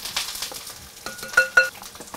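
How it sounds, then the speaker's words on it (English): Apples sauté in a pan with a close, crackling sizzle, broken by several short scraping stirs and two sharper clinks of a utensil against the pan. "my apples are sauteing"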